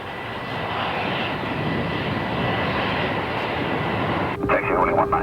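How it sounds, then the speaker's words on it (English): McDonnell Douglas DC-9 jet airliner taxiing to the gate, its engines giving a loud, steady roar heard from the flight deck, with radio chatter breaking in over the engine noise near the end. "The DC9 taxis into position at gate 4 for the passengers to disembark."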